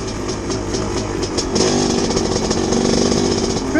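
A 2017 MX250 dirt bike engine runs loud and close on a fall trail ride in New England, holding a steady buzzing drone that rises in pitch and intensity partway through.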